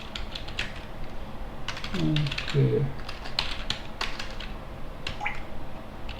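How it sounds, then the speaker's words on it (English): Commands are typed on a computer keyboard into a console, a steady run of light clicking keystrokes at close range, with a short spoken word briefly breaking in. "zoom in so you guys can see what I'm typing"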